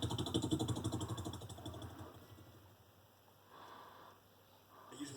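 A voice imitates a helicopter with a loud, close, rhythmic fluttering chop that pulses fast for about a second and a half, then fades into a softer, breathy rumble.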